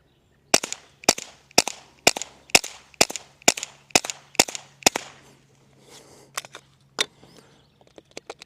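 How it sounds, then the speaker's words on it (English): A pistol fitted with a B&T Tiger Ti suppressor fires supersonic rounds, about nine sharp, evenly spaced cracks in quick succession, loud and close, followed by a few fainter clicks and one last shot. "just to get the idea of what sub compared to supersonic sounds like out of a pistol"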